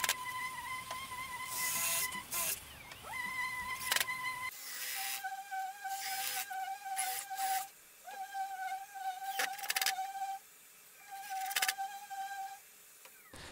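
A cordless driver whines in repeated short bursts, driving brass screws into the sliding-dovetailed shelf of a sycamore bench, with a high steady motor tone starting and stopping close by between brief quiet gaps.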